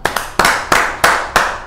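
Clapping as cricket players return to the field after a rain delay: a handful of sharp, close hand claps in a steady, slightly uneven rhythm, loud and alone without crowd noise.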